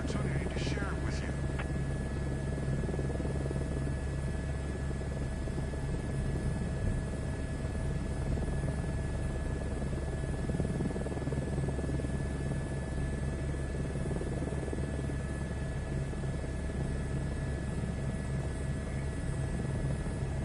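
A helicopter in Microsoft Flight Simulator 2024, flown in VR, gives off a steady, droning rotor and engine hum with a constant tonal whine that runs unbroken throughout. A few brief clicks come early on.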